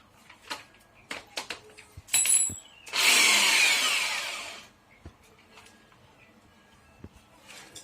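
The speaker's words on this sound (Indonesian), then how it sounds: "Kita gunakan bor dan mata bor beton ya, yang akan kita pakai ngebor tembok supaya lebih gampang." A power drill fitted with a masonry bit bores into a house wall, a loud grinding burst of about two seconds, preceded by a short whir and scattered knocks and handling clatter, then quiet.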